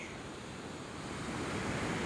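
Strong sea waves and a fast current churn along the shore, a steady wash of surf noise building slightly in loudness, with a touch of wind.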